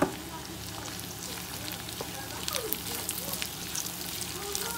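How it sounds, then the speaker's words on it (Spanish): Onion and serrano chile frying together with corn kernels for esquites, a steady close sizzle with occasional crackles and pops throughout, no talk. "vamos a agregarle la cebolla con el chile"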